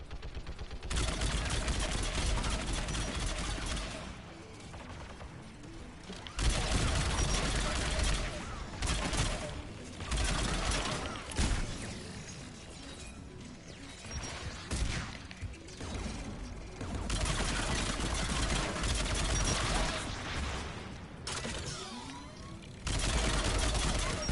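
Turrets in Mass Effect 3 firing in long, loud, rapid volleys that come in repeated waves with short lulls between them, mixed with clattering impacts.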